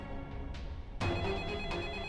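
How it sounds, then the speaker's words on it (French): An early-morning telephone rings in bright electronic bursts that repeat in a steady pattern, loud and close, with no one speaking. "Pourquoi le téléphone sonne encore si tôt le matin?"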